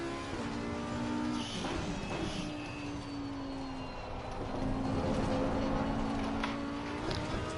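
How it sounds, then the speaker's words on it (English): A GT3 car lapping Brands Hatch in a racing game, engine droning steadily while long sustained tyre squeals rise and hold through the corners, loud and close. "Tyres are complaining big time now."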